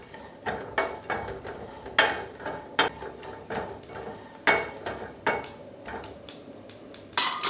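Sesame seeds dry-roasting in a pan with peanuts and coconut, with a spoon or spatula repeatedly scraping and knocking against the metal in irregular bursts, close and moderately loud, without any talking.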